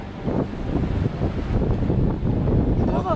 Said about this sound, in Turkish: Rüzgar çok arttı can. Ağaçlara bak.